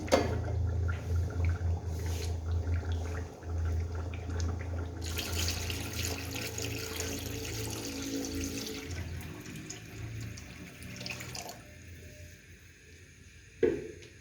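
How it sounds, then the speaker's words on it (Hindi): Water pours and splashes steadily into a cooking pot of nihari, about seven litres, for several seconds, a continuous rushing flow that thins out near the end, with a brief clatter. "अब मैं इसमें पानी ऐड कर रही हूँ।"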